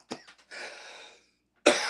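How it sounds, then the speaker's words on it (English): A single sharp cough, followed by a brief raspy exhale and then another harsh burst of coughing at the end, close and loud in a quiet room. "The cough was even different. The cough is cleaner."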